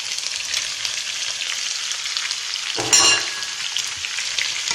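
Carrot and onion fry in a sauté pan with a steady, close sizzle, broken near the middle by a brief louder burst as the vegetables are stirred, then settling back to an even crackle.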